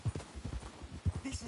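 Horse hooves clip-clopping on the ground in Red Dead Redemption 2, a soft irregular series of thuds at a walking pace, faint and low in the mix.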